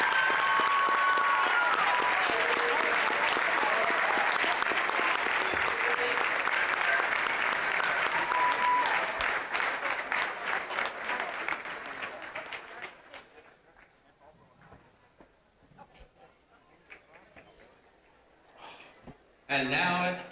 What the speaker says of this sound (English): Let's give Jada another big round of applause.